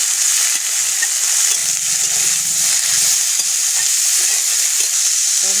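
Vegetables with salt and turmeric sizzling steadily in a pan, a loud dense frying hiss with faint stirring scrapes underneath, close and continuous.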